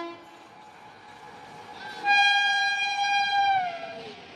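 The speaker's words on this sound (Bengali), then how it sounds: "সামনে দিয়ে দুটো রাজধানী একসাথে আসছে" The Howrah Rajdhani express train rushes past a station platform at high speed, its loud horn blaring for a long held blast over the rumble of the passing train.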